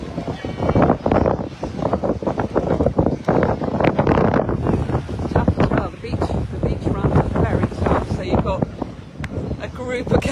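Side wind gusting across the microphone at an outdoor adult and junior paddle race, a loud, continuous blustery rumble and buffeting with no let-up throughout.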